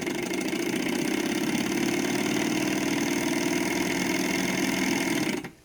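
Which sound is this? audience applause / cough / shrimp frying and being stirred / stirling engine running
stirling engine running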